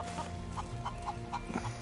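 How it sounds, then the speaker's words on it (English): Chickens in Final Fantasy VII Rebirth, a series of soft, quick clucks repeating in an uneven rhythm over a low game background hum, faint and at moderate distance. "Cluck cluck."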